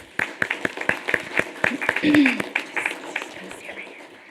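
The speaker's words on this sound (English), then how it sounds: "Let's give them a big round of applause." A small audience at a development corporation meeting claps for a student team, sparse distinct hand claps close by, with a voice speaking briefly over them.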